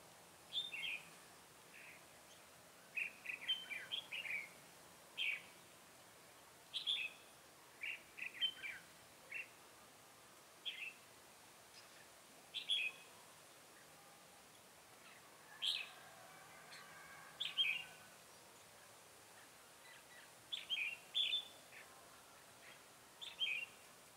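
A red-whiskered bulbul calls at a bird trap outdoors, sending out quiet bursts of short, bright chirps in scattered clusters with pauses between them over a faint, still background.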